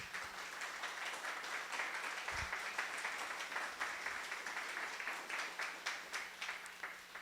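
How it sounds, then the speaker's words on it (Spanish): Catholic congregation at Padre Radamés's preaching applauding the Holy Spirit, a faint, distant patter of many hands clapping continuously with a slightly rhythmic pulse. "Un aplauso al Espíritu Santo."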